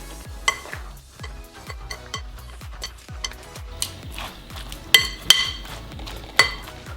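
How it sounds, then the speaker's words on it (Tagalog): Okoy vegetable fritter batter with butter is stirred in a bowl with steady, rhythmic scraping strokes, about a dozen of them, plus a few sharper clinks against the side, close and clear with no talking. "Tapos, haluin nyo ulit"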